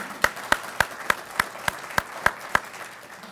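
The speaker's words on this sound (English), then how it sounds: "Please give yourselves a big round of applause." A single pair of hands claps about nine times in a slow, even rhythm, faint and isolated in a quiet room at a county award ceremony for volunteer firefighting.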